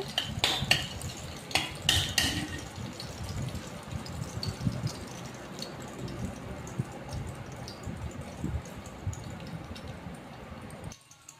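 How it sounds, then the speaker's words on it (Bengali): Garlic sizzles steadily in a pan while a metal spatula clinks and scrapes against it, with sharper utensil knocks in the first two seconds and a continuous frying hiss throughout. "রসুনটা লাল করে ভাজতে হবে।"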